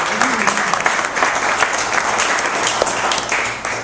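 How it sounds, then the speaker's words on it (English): A Tea Party crowd in Hartland breaks into loud, sustained clapping, a dense patter of many hands that holds steady and carries a few scattered voices. "give me a clap there"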